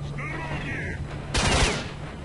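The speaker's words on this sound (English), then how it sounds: "Who's shooting me?" Gunfire in the S.T.A.L.K.E.R.: Shadow of Chernobyl video game, with a faint hum and chirp first, then a sudden loud burst of several rapid shots over about a second, followed by a lingering echoing tail.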